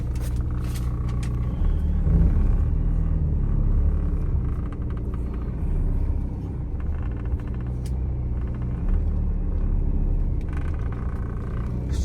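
A 2017 Renault Master 2.3 van pulling away, a low, steady engine rumble heard from inside the cab, swelling slightly as it moves off, with no talk.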